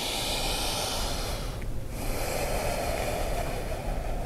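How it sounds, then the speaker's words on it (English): Slow, deep breathing during a yoga session, a steady close airy hiss of long inhales and exhales with a short pause partway through. "Breathing generously into the back of the neck, the kidneys, so the whole body benefits from the breath"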